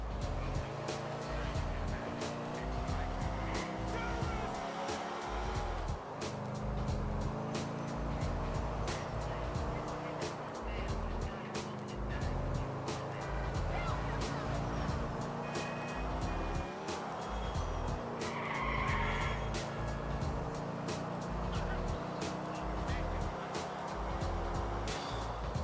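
A car in Grand Theft Auto IV drives hard with a steady engine drone, shifting pitch through gear changes, and tires squeal now and then, with a voice talking faintly underneath.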